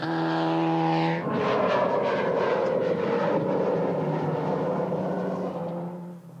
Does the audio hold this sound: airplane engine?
yes